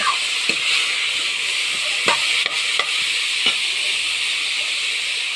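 Radish pieces frying in a pan give a steady close sizzle and hiss, broken by a few faint clicks of stirring, with no talking.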